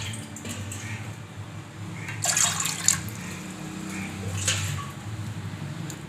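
Water is poured into a pot for making paal kozhukattai, with faint splashing and trickling that swells in a few soft bursts against quiet kitchen background.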